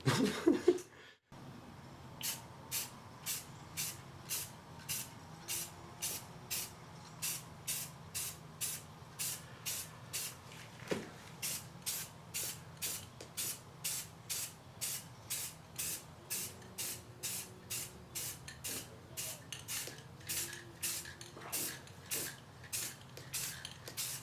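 An aerosol can sprays a tack layer onto a polycarbonate windshield for a 1993-2001 Subaru Impreza, heard as a long series of short, evenly spaced hissing bursts, faint and close, with a little background noise between them.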